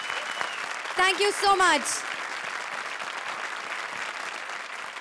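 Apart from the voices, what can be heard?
studio audience applause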